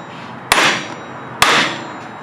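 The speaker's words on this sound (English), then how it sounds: "It's my hitting stuff real hard hammer." A hammer strikes metal hard twice in a garage, each blow a sharp, loud clang with a ringing tail, spaced about a second apart.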